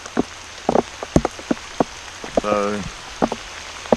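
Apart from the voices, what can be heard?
rain falling on a river while kayak fishing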